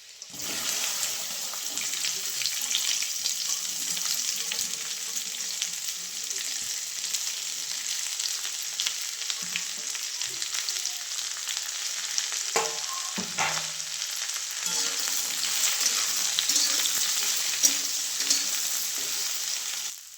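Garlic frying in a pan with steady bright sizzle throughout, broken by occasional scraping stirs and a brief clatter of the spoon midway; no talk.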